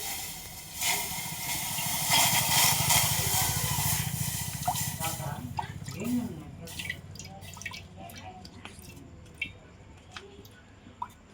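Water is poured into a glass in a home kitchen: a steady splashing stream lasts several seconds, then thins into scattered drips and light clinks, while a voice talks over it.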